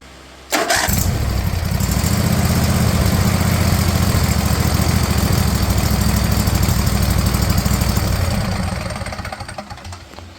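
A zero turn mower, freshly fitted with a swapped engine and running a dirty carburetor, starts up and runs loud and steady nearby with a rough low rumble, then gradually eases off near the end.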